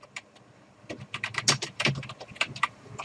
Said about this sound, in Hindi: जैसे मैं एक और रो इंसर्ट कर रहा हूं, विजय,